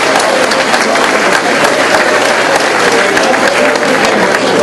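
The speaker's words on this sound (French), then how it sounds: "Ça se mériterait une bonne main d'applaudissement à nos autres" Loud, dense applause from a large dinner crowd of about 370 guests honouring the volunteers who cooked the meal, steady clapping filling the room throughout.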